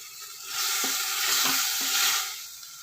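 Ground ginger, garlic and green chili paste hits a hot pan for mint rice and bursts into a loud, close sizzle that swells and holds, with a few soft stirring knocks and no voices.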